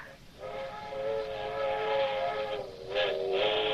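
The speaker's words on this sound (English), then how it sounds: "them train whistles. To remind you of other places. You hear them all night." A train whistle sounds in a radio drama, a long, steady, harmonic wail that holds for several seconds, swells louder near the end and stands alone without voices.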